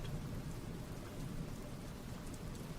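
Heavy rain pours in a dense, steady hiss with a low rumble of thunder underneath, with no voices.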